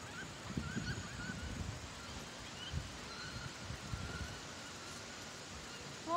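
Ducks call from a yard near a waterside property in short, scattered honking bursts over steady outdoor background noise, with faint talk now and then.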